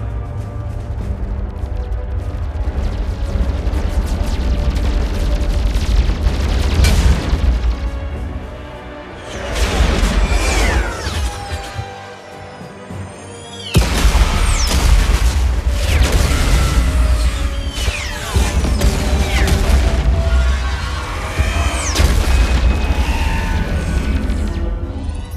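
A Mass Effect space battle pairs heavy weapons fire with deep booming explosions and whooshes. The loud, dense roar runs almost continuously, easing briefly once or twice.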